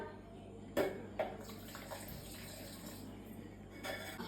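Water is poured into a mixer jar holding ginger, lime juice and sugar for lime juice. A quiet splash comes with a couple of brief knocks against the jar, fairly faint and with no voices.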